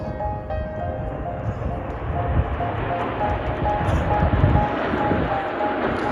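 Jet aircraft of the Patrouille de France perform at the La Ferté-Alais air show, a steady distant roar of engines rumbling throughout, with a faint voice over it.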